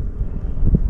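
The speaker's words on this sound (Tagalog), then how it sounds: "Hangin." Wind blowing across a river while fishing from a slow-moving boat, a steady low rumble buffeting the microphone close up for under a second, swelling slightly near the end.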